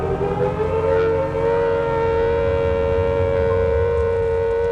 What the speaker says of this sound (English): the first air raid siren in wartime Britain was heard